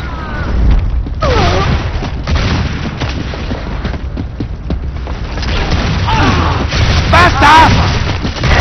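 Booming blasts and rolling explosive rumble fill a video game clan match firefight, with grenade detonations and gunfire bursts continuing throughout while voices call out over the noise.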